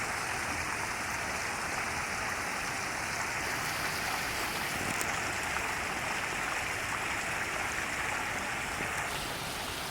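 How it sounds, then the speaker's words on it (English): A waterfall and stream in the jungle at Paronella Park rush in a steady, dense, unbroken roar of falling and flowing water, close and loud throughout. "And the waterfall."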